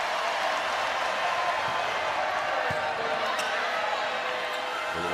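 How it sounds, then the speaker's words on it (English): Boisterous crowd at an NCAA women's volleyball match between Texas and SMU: a steady, loud wash of cheering and noise filling the arena, with a few dull thuds and a commentator talking over it. "Crowd starting to get a little boisterous here early on."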